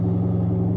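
Alfa Romeo 8C V8 engine in sport mode after a paddle shift, giving a steady, deep, loud rumble with strong low harmonics, close and continuous, with no voices.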